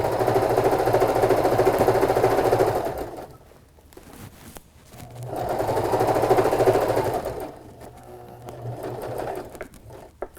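A sewing machine stitching fabric in two loud steady bursts of rapid mechanical whirring, separated by short pauses with light handling noises, close and without talking.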